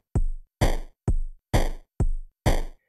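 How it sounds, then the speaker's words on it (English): Sampled drum machine in VCV Rack pounding a four-on-the-floor pattern, a kick on every beat with a snare on every other beat, crisp and loud, about six hits in a steady pulse with nothing else over it. "It's characterized by a kick drum every beat and a snare drum every other beat."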